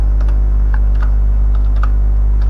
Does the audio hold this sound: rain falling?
no